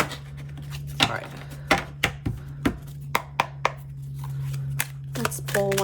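Crisp slaps and riffles from a deck of slippery, glossy tarot cards being shuffled by hand, a dozen or so sharp clicks at uneven intervals over a low steady hum.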